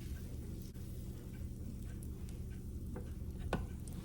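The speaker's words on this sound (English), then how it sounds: "my waffle iron is hot. Like I say, I sprayed it. So I'm going to go ahead and put the waffle mix in here." Sourdough waffle batter cooking in a hot, greased waffle iron, a steady low sizzle and hiss with a few faint ticks, close and without talk.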